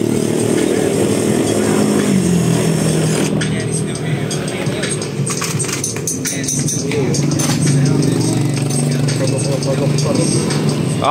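A power drill whines steadily while boring a hole through the plastic fairing of a Honda ADV160 scooter, close and continuous, with someone talking over it throughout.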